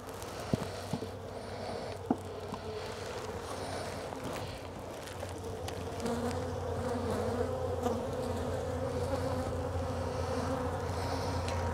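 Honey bees swarm and buzz around an open brood frame pulled from a hive, a steady close droning hum that holds throughout, with a few sharp clicks early on and the buzzing growing slightly louder toward the end.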